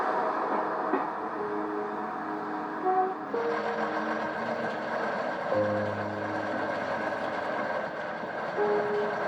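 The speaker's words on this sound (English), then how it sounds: "The train departs for Bridport." A train rumbles steadily nearby as it pulls away from a station on the Bridport branch line in 1975, with droning engine tones shifting in pitch and no voices.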